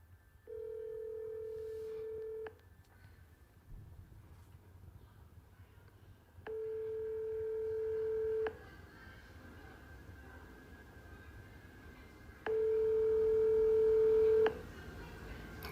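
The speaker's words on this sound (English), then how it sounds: "listen to where this phone number goes to when you call this child care center." A telephone call to a child care center's number in Minneapolis, Minnesota rings back three times, each a steady two-second tone separated by long pauses, clear over a faint low background hiss.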